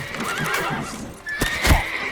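Roach, Geralt's horse in The Witcher 3 on PS5, whinnies loudly at close range over steady clip-clopping hooves and game ambience, with a sharp neigh near the end.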